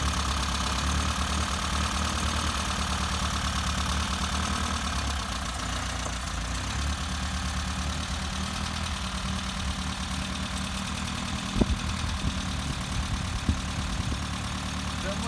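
A carbureted Toyota Carib AL25 engine idles steadily up close with a rough, uneven chug and a faint knocking, joined by a couple of short clanks near the end.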